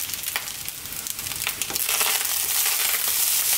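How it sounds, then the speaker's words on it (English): Mushroom fried rice sizzles and crackles steadily in a hot pan, a dense frying hiss that grows slightly louder and fuller partway through, with occasional scraping from stirring and no talking. "That is rice frying, i.e. fried rice."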